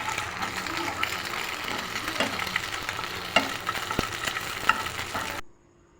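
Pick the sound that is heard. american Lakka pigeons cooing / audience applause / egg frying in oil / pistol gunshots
egg frying in oil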